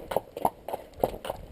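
Hooves of a cob horse in training clip-clop at a walk in a steady rhythm, with about five distinct, moderately close footfalls over a quiet background.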